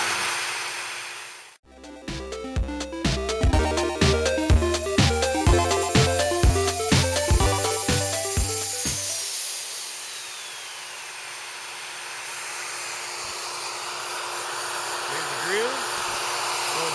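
A Hercules 2-1/4 HP, 12 amp variable-speed plunge router cutting a test groove in wood: a loud whining motor with strong tonal harmonics runs for about eight seconds, then spins down into a fading hum.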